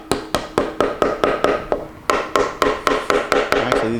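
Gentle, evenly spaced taps seat guitar bridge posts into a custom LP-style kit guitar body, about sixteen sharp close knocks in a steady rhythm with a brief pause midway.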